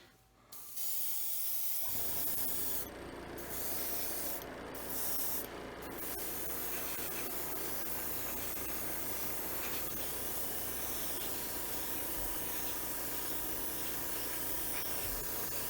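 An airbrush sprays base coats onto the nacelles of a 1:1000 scale TOS Enterprise starship model, a steady close hiss that starts after two seconds and runs on unbroken with a few brief spurts.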